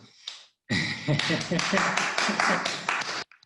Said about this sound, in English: you deserve a clap, all of you